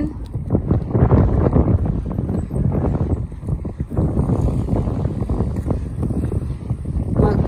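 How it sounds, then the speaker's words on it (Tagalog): Steady wind rushing and buffeting against a microphone outdoors, loud and continuous throughout, with no speech. "Kaso na mahangin. Yuhu, mahangin."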